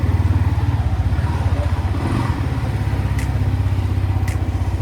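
Yamaha MT-15 motorcycle engine idling while warming up after its second service, a steady, close, rhythmic thrum with a slight dip midway and faint clicks above it.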